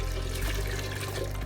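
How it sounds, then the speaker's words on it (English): Beef broth pours from a carton into a cooking pot for pho, a brief, soft, continuous liquid splash with no talking over it. "we'll add one more box of beef broth"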